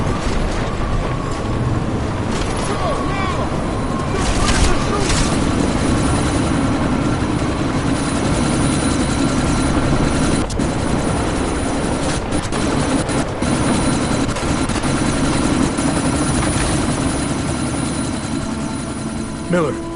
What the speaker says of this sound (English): you need to disable that chopper